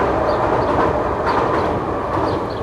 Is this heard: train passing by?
yes